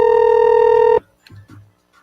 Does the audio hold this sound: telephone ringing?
yes